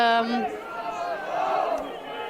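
The German team cheering and shouting at an under-17 open final against Sweden, a group of voices yelling together in a sustained, close burst of celebration.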